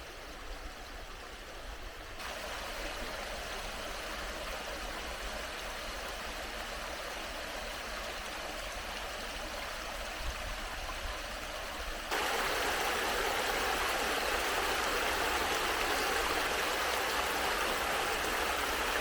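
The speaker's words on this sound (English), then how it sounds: "listening to the voices as it ripples over the stones" Water ripples and rushes over stones in a stream near a waterfall, a steady close broadband wash that swells noticeably louder partway through, with no voices.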